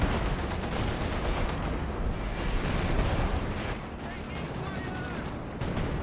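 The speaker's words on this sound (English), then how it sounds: "It's a coordinated barrage as well for this" An artillery barrage in a strategy video game rumbles as a continuous dense wall of overlapping blasts and booms, loud and steady throughout, with a voice talking faintly underneath.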